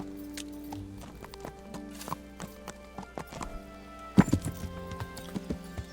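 Steady clip-clop of horse hooves in the video game Kingdom Come: Deliverance, a rhythmic series of close knocks with a sharper cluster of hits near the end and no talking.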